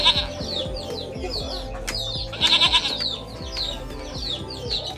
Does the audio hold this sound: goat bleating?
yes